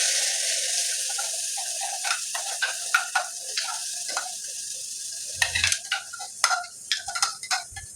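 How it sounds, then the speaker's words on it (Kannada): Masala spices frying in oil in a pan for a sprouted horse gram sambar, with a steady sizzle and repeated clinks and scrapes of stirring close by. "ಈ ಮಸಾಲೆನ ಈಗ ನಾವು ಎಣ್ಣೆಗೆ ಹಾಕೊಂಡು ಸ್ವಲ್ಪ ಚೆನ್ನಾಗಿ ಫ್ರೈ ಮಾಡಬೇಕು"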